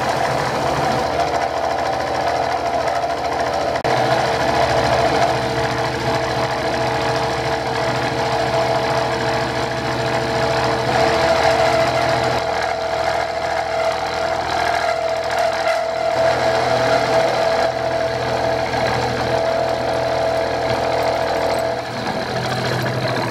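Milling machine roughing out steel vise jaws, a steady mechanical whir with a constant tonal hum and rhythmic cutting chatter, fairly loud and continuous with no speech.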